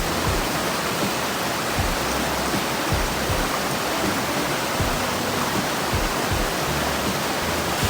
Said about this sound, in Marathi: धबधबा पण खतरनाक आहे.